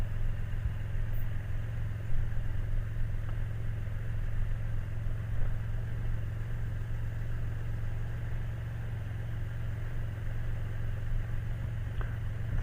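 A Can-Am F3-S motorcycle being ridden through a right turn toward a steep hill on Smith Road, a steady moderate low engine hum with wind and road noise throughout and no talk.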